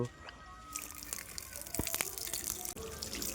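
Water pours steadily from a household tap for foot washing on a family morning, a close hiss with small splashes and drips starting after a brief pause, with faint voices in the background.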